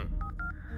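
A phone number being dialed on a telephone keypad: four quick touch-tone beeps in a rapid even sequence, fairly faint and alone.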